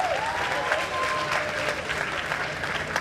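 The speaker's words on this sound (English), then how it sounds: "So let's give them a round of applause" An audience at a Newark fashion event claps steadily in a dense, continuous burst of applause that holds for a few seconds, fairly loud and close.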